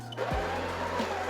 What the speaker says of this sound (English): We're gonna grind and purge the brew group for 2 seconds, just to refresh the system.